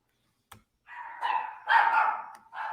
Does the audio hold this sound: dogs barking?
yes